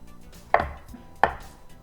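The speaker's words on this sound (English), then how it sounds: "I'm gonna cut these into cubes." A knife cuts Spam into cubes on a board, two crisp chops about 0.7 seconds apart, close and clear, with quiet in between.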